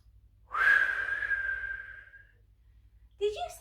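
Children blow out a long, breathy whoosh in imitation of stormy wind during a kids' yoga session, swelling loud then fading over about two seconds, followed by a brief burst of voices.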